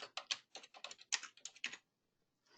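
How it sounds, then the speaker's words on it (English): Typing on a computer keyboard in quick irregular bursts of crisp, close key clicks, then a short pause before a few more taps, with no talking. "as I'm typing"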